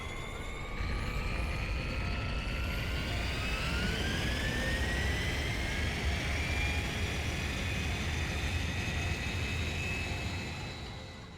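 Aircraft taking off in the Digimon Time Stranger video game: a steady, loud jet engine roar with a rising whine that holds for about ten seconds before easing slightly.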